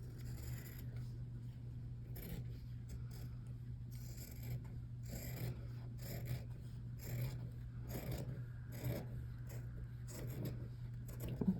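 Scissors snipping through fabric on a junk journal cover, a series of short, quiet crisp cuts and rasps in an irregular rhythm over a steady low hum, close by with no talking.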